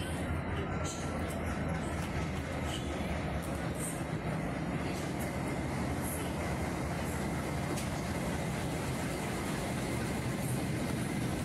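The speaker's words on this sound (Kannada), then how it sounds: "ನೋಡಿ, ಅಲ್ಲಿ ಬರ್ತಾ ಇದೆ ನೋಡಿ, ಇದು ಸಂಪರ್ಕ್ ಕ್ರಾಂತಿ ಎಕ್ಸ್ಪ್ರೆಸ್" An Indian Railways Sampark Kranti superfast express from Yesvantpur rolls in with a steady, loud rumble and rattle of wagons sustained throughout, broad and continuous with no pauses.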